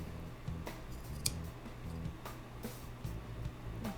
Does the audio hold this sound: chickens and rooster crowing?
no